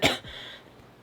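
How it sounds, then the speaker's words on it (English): A person coughs twice, short and close, with a quiet raspy breath between the two bursts. "I've been coughing like all day"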